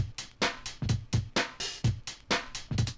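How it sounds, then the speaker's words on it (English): A punchy drum loop plays alone, with kick and snare alternating in a steady groove and crisp hi-hat ticks filling the gaps. "I've got this drum beat down here."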